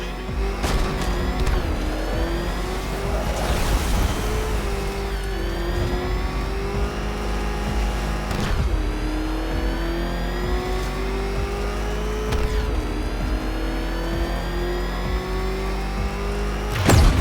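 A ramshackle car in Batman Arkham drives hard with a loud, steady engine drone, revving and shifting pitch through repeated gear changes, with occasional sharp clanks over the constant rumble.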